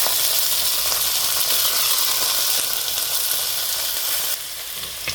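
Onions and green chillies sautéing in coconut oil for a chicken curry, a steady, close, loud sizzle with a dense hiss that holds through the clip and drops slightly near the end.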